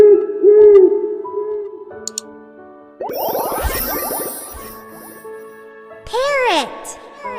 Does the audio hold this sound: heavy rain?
no